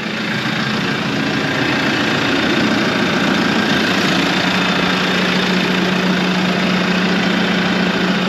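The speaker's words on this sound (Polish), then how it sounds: "Tak brzmi silnik tego ciągnika po wyjściu na zewnątrz." A Case IH Luxxum tractor's four-cylinder engine idles loudly outdoors, a steady rumbling drone with a faint knocking texture, no voices.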